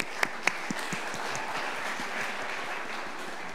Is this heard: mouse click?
no